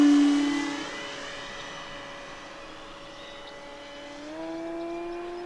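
An E-Flite Commander mPd 1.4m electric RC airplane whines overhead, its steady motor tone shifting in pitch as it passes and comes in to land, fading slightly then rising again near the end, with no talking.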